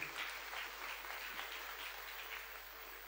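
Soft, steady clapping from an audience at a devotional kirtan gathering, sounding somewhat distant and continuing evenly for a few seconds.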